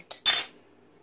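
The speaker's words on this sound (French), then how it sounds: "je vais le mélanger et ajouter par petites quantités" Choux pastry dough stirred in a bowl, heard as two quick clinks of a utensil against the bowl in close succession, then a fading tail and quiet.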